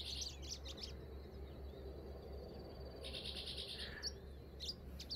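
Small birds chirp and tweet in repeated bursts along a morning mountain trail near Capitólio, Minas Gerais, with a steady low rumble of distant highway traffic underneath.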